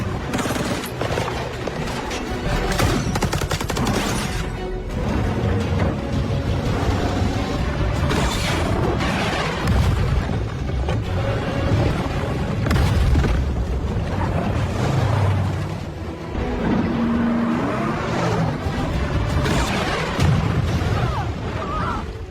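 Loud, dense movie-style gunfire rattles almost nonstop, punctuated by heavy booming explosions, with the chaotic barrage continuing throughout.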